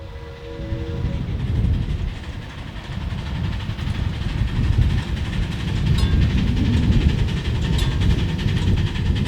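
A ridable model train, locomotive 1728, rumbles steadily along the track nearby at Train Mountain, a low continuous roll with faint clicking and a brief tone at the start.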